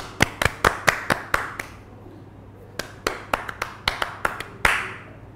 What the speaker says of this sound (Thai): ปรบมือให้เลยค่ะ